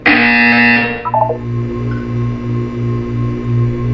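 In Portal 2, a bright electronic tone cuts off, then a low buzzer pulses steadily in repeated short bursts against a faint hum, fairly loud and close.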